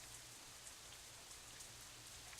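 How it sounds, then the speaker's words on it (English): Heavy rain pours steadily in the Katawa Shoujo visual novel game, a dense continuous hiss with scattered drop patters and a low rumbling undertone, alone with no voices. "the rest of my voice is completely drowned out by an even heavier burst of rain"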